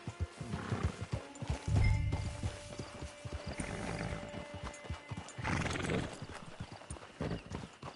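In the video game Red Dead Online, hooves clip-clop on the ground and a horse whinnies loudly, with some movement sounds around it.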